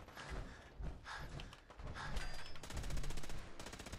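Gunfire in the video game Fallout 4 on a modded very hard setting, with rapid bursts of automatic shots rattling in quick succession, fairly faint overall and growing denser toward the end, no talk over it.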